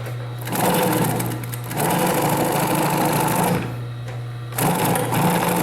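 A sewing machine stitches a basic seam in loud, close runs of rapid mechanical whirring, stopping briefly twice before starting up again, with a steady low motor hum underneath.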